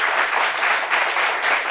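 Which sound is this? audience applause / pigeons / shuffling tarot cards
audience applause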